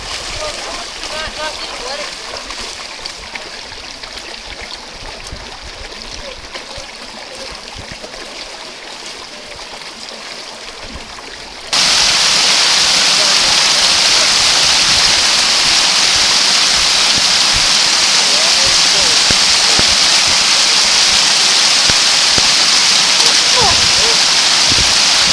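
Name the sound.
Virgin River running water in The Subway, Zion National Park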